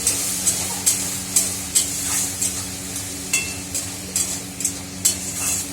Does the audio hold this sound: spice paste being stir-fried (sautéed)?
yes